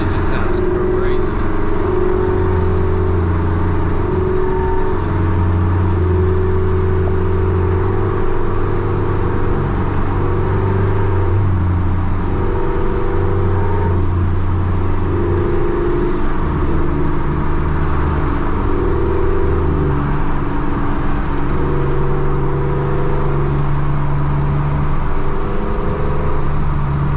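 Loud Chevrolet Camaro SS V8 on a night drive, heard from inside the car as a steady engine drone with rising and falling rev swells and gear changes across the whole stretch; voices talk faintly over it.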